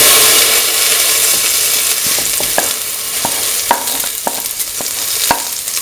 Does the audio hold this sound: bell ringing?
no